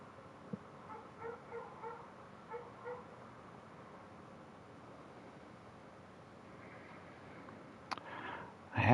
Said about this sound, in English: I had my window open because it's a nice day, not because I wanted to hear neighbors' dogs barking